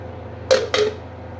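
A metal lid goes onto a pan of potatoes in oil with two quick clanks close together, the second ringing a little longer, over a low steady background hum.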